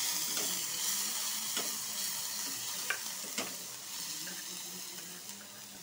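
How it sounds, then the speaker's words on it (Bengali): Chopped onion frying in hot oil with cumin and bay leaf, a dense continuous sizzle with occasional spatula clicks and scrapes, close and steady throughout. "পেঁয়াজের কুটিটা ভালো করে ভাজবো।"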